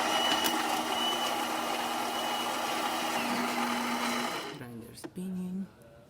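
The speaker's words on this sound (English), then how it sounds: "Grinder spinning." A Gaggia Anima coffee grinder runs with a steady, loud whirring hum at close range for several seconds, then winds down and cuts out, followed by brief handling knocks and a short mechanical whine.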